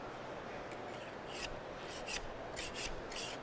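A scraper blade pushes under adhesive floor marking tape, making a soft scratchy rasping. Several short, bright scrapes stand out over a continuous hiss.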